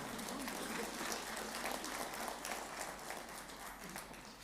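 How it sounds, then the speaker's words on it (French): A concert audience at a wind band (harmonie) anniversary concert applauds the conductor, a dense continuous clapping heard from within the hall, fairly quiet and tapering slightly at the end. "on peut applaudir Patrick."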